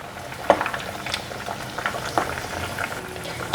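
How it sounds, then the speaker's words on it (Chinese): Battered yam and tofu deep-fry in a pot of hot oil, a close, steady sizzle with scattered pops and crackles and no voices. "准备裹上面糊拿去炸了"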